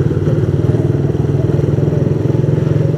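A motorcycle engine pulses with a steady, throbbing mid-pitched drone at close range on an evening city street in Batam, with rapid rhythmic firing and no talk heard.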